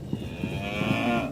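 A young cow lets out a single long, drawn-out moo close by, rising and holding in a low bellowing tone.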